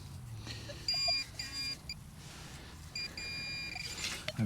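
Metal detector on an Australian beach emitting warbling electronic beep tones in a few short bursts over a low background rumble, with gaps of quieter noise between signals.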